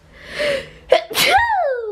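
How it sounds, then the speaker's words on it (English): One loud, close sneeze with a breathy wind-up gasp and a high, squeaky, tonal finish that trails off. "that was a weird sneeze"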